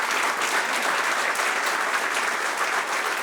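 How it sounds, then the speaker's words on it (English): A banquet audience at a scholar-athlete awards event applauds in a full, sustained wash of clapping that stays even and loud without breaks or speech. "Thank you very much for your round of applause."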